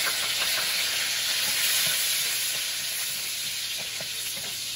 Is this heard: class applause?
no